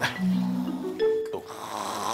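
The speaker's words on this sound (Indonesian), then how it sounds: "tidurnya ngorok begitu" A person snoring in sleep, a loud nasal rumbling snore that wavers in pitch over about two seconds, with a sharper snort near the end and continuous background noise.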